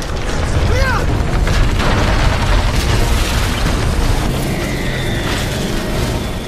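An alien spaceship from a science-fiction film lifts off with a loud, continuous low roar and rumble, mechanical whirs and pops layered over it, and a rising whine and tonal hum appearing later.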